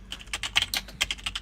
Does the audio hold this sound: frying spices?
no